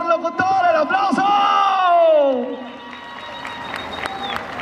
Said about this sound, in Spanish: Alex Ruiz de Pátzcuaro, mejor locutor, ¡el aplauso!